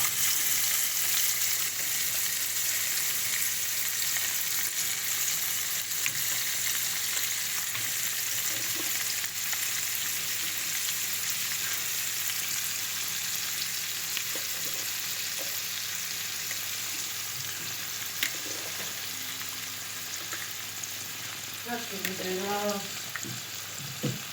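Chopped shrimp and other seafood fry in a hot pan with a constant, close sizzle, with occasional faint stirring clicks and a brief murmur of voice near the end.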